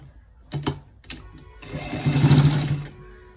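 A sewing machine stitches a stripe onto the side of a pair of trousers, with two short clacking bursts and then a longer, louder run of fast, close-up stitching that stops abruptly.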